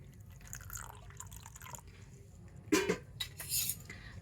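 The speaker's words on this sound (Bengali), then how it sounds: "আর এই সুজির মধ্যে একটু জল দিয়ে দেব।" Water is poured into semolina in a bowl, giving a couple of short splashing pours with a faint clink, close and quiet.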